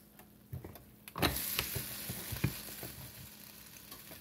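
Sausage sizzles inside a closed waffle press for carnivore waffles, a soft steady frying hiss close by after the lid thumps shut, with a few clicks and taps.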